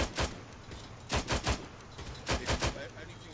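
Bursts of gunfire crack out in quick clusters during a military video game firefight, several short volleys spaced across a few seconds, loud and close, with voices talking between them.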